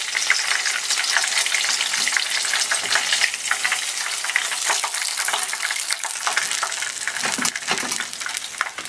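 Breaded shrimp deep frying in hot oil, a dense, loud, continuous sizzle and bubbling heard up close throughout, with a few brief clatters toward the end and no talking.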